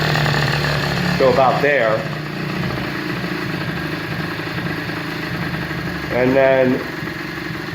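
A 50cc Blue Dino minibike engine runs nearby with a steady buzzing idle and two brief revs, while someone talks over it.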